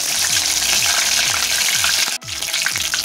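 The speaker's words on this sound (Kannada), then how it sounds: "ಈಗ ಇದರಲ್ಲಿ ಕರಿಬೇವು ಒಂದು ಕಡ್ಡಿ ಅಷ್ಟು ಕರಿಬೇವು ತಗೊಂಡಿದ್ದೀನಿ, ಅದನ್ನು ನಾನು ಕಟ್ ಮಾಡಿ ಹಾಕ್ಕೊಳ್ತೀನಿ" Curry leaves frying in a hot kadai for a greens palya, giving a loud close crackling sizzle with rhythmic stirring scrapes, briefly dropping out near the end before resuming, with no one speaking.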